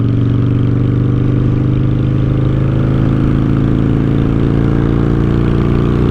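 A Honda Shadow 750 motorcycle engine runs loud and close with a steady, deep rumble and no clear revving, filling the whole stretch without a break.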